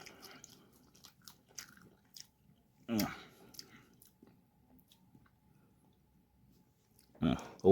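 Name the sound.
chewing fries dipped in purple Wendy's sauce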